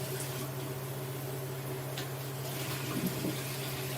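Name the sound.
pouring two cups of liquid into full skillet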